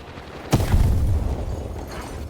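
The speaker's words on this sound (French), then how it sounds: "Grenade." A Call of Duty 4 grenade explodes in one sudden, heavy boom. A low, rumbling tail follows and fades slowly over the next couple of seconds.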